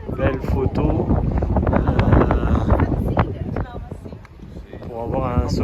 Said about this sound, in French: Je pense qu'on va pas rester longtemps à l'extérieur vu le vent qu'il fait.